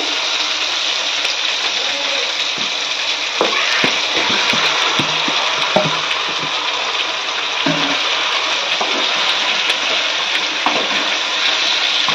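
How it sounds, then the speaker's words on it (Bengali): Marinated chicken dropped into hot oil and spices in a pan gives a loud, steady sizzle and frying hiss throughout, with occasional stirring clinks and faint talk underneath. "এবার আমি যে মাংসটা ম্যারিনেট করে রেখেছিলাম সেই মাংসটা এবার এর মধ্যে দিয়ে দেব।"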